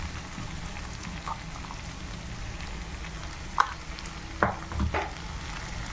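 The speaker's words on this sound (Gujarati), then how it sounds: "હવે આપણે એને બરોબર મિક્સ કરી લેવાનું છે" Spoon stirs spices into okra (bhindi) curry frying in a pan, a soft steady sizzle with a few sharp scraping clinks near the end, no voices.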